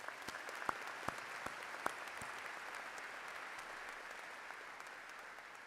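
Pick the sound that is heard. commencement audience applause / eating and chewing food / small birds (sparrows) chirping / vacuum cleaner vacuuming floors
commencement audience applause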